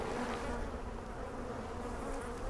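Domesticated European honey bees buzz at an open hive, a dense, steady hum of many wings close to the microphone.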